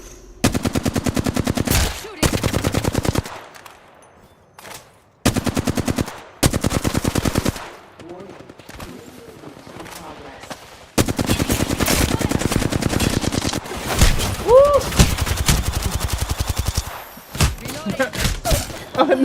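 Video game gunfire in RuneScape: loud, rapid automatic bursts in long runs broken by short gaps, heavy and close, with players' voices and game sounds mixed in.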